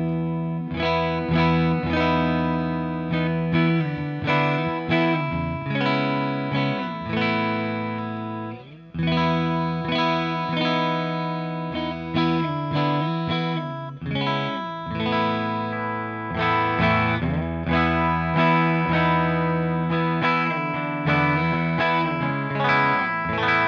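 A parts Telecaster electric guitar with a new bone nut, played through a Marshall Plexi amp into a Torpedo Captor with impulse responses, rings out loud distorted chords and riffs continuously, with one short pause.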